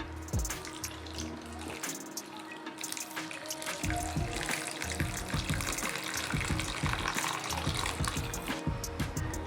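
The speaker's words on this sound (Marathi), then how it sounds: "आता मी याला पाण्याने स्वच्छ धुवून घेते" Water splashes and drips as grated bottle gourd is rinsed in a bowl, with sloshing and irregular trickling close by.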